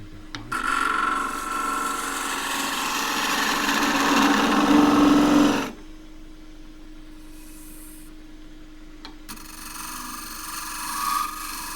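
A gouge on a wood lathe makes a peeling cut into the endgrain of a turned cup, a loud steady shaving rasp lasting several seconds over the spinning motor hum before the cutting stops and the quiet spinning continues.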